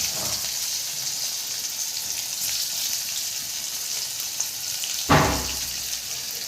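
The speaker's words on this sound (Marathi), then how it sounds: "कढईमध्ये तेल आपण आणखी टाकलेलं आहे आणि एक एक कारल्याचा तुकडा सोडत आहे" Pieces of stuffed bitter gourd frying in oil in a kadhai give a steady soft sizzle, with one louder burst of crackling near the end as another piece goes in.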